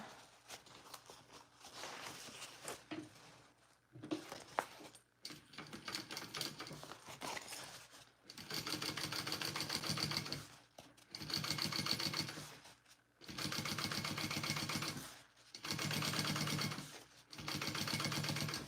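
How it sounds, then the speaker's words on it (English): A sewing machine topstitching a bag runs in several sustained bursts of rapid mechanical stitching, separated by short pauses, close and clear with no talk. "Let's top stitch and then check our bobbin before we continue."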